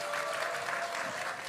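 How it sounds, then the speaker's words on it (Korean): Brief burst of audience applause at a Korean Christian concert worship, a dense steady clatter of many hands filling the room throughout. "박수 한번 줘보세요"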